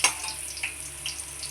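Tempering spices fry in hot oil for a ginger rasam: a close, lively sizzle with a sharp crackle at the start, then scattered pops over a steady hiss, with no one talking.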